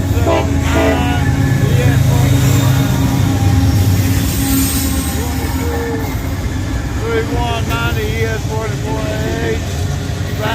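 Southbound freight train led by three locomotives rolling past at a switch, a steady loud rumble with engine drone and wheel noise throughout, with a person talking over it.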